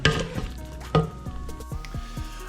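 Onions browning over raised heat in a pan for French onion soup, sizzling steadily up close, with several scraping stirs at a regular pace.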